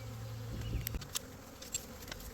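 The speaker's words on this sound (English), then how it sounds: "I let the bees sit like this for probably 8 or so minutes" A honey bee swarm buzzes steadily close by, a dense droning hum with a few brief louder passes of individual bees near the ear.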